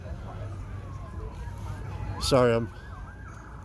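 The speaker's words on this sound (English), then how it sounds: "we're in Tallahassee, so there's going to be some sirens and stuff" A faint siren wails in the distance, rising and falling under street noise at a cars and coffee meet in Tallahassee, and a voice briefly cuts in with a burst of speech.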